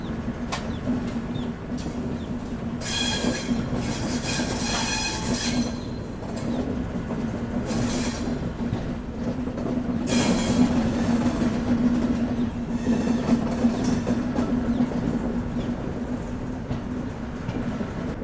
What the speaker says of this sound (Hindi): यहाँ पर मेन लाइन को ज्वाइन कर दिया अपनी ट्रेन ने।